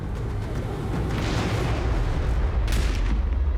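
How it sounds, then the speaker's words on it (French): Heavy gunfire in WWII North Africa landing footage comes as a dense, continuous rumble of booming blasts, loud and unbroken throughout with no voices. "ils sont la cible de tirs nourris."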